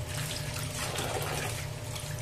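Food being washed under a running kitchen tap: a steady, close stream of water splashing and trickling without pause, fairly quiet, with no talk.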